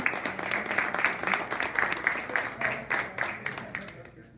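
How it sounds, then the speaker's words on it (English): Scattered audience applause at a general membership meeting of a historical society, a small room of hands clapping in an uneven patter for several seconds, with voices murmuring underneath. "Let's have another round of applause."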